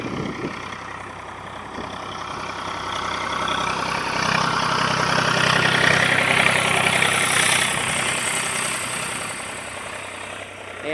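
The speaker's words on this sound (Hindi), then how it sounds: "ट्रैक्टर आ रहा है" A tractor engine on a farm field chugs with a steady mid-to-low rumble that swells louder toward the middle as it draws near, then eases slightly, with no talk.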